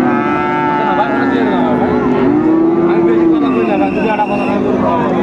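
Bulls at a crowded cattle market lowing in long, loud, drawn-out moos close by, over a steady background of crowd chatter and people talking.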